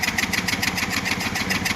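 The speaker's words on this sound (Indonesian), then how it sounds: "Kita lihat sambil kita kunci kontak on dan starter motornya." A fuel-injected motorcycle engine cranked and running during an injector spray check, a steady mid-pitched rhythmic chugging pulse close by with no talk.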